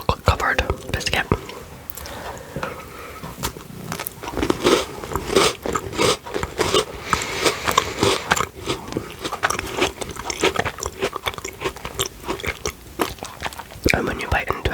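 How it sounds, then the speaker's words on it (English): Someone bites into a chocolate-covered shortbread biscuit with a fudge layer close to the microphone, giving crisp crunches followed by steady chewing. Soft whispering runs throughout. "when you bite into it, it's got like a shortbread biscuit with a fudge layer on top"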